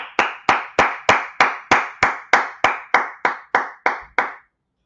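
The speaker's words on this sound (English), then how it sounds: "Clap it up." About a dozen sharp hand claps in an even, steady rhythm, close and loud, each with a short decay, fading slightly before stopping, with no talking.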